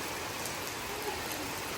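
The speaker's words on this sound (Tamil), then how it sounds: "தினமும் இந்த மாதிரி மழை பெய்யுமா" Steady rain falls outdoors, a dense, even hiss of drops that stays constant throughout, with no voices.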